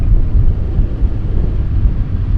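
Strong wind buffets a camera microphone outdoors, a steady loud low rumble with gusty surges throughout and no voices.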